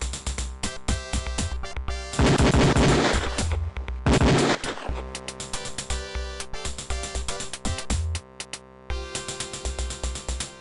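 Rapid bursts of pistol fire on the shooting range in the Police Quest 4 game, loud and near, repeated in dense volleys and clusters, set over a steady pulsing game soundtrack.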